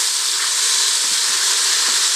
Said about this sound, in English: I'm going to throw in my mushrooms and just saute those a little